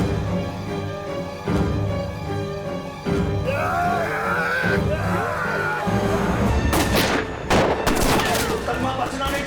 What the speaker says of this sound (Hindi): फायरिंग कर, फायरिंग कर।